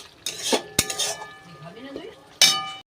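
Fried spice paste with ginger is tipped from a pan into a pot of cooked khichdi made with Gobindobhog rice and lentils, heard as close metallic scrapes and clinks of utensil on cookware, a sharp knock, and a final clatter.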